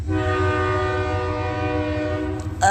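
A train runs on nearby tracks, its horn sounding a sustained, loud multi-tone chord over the low rumble of the cars, cutting off abruptly near the end.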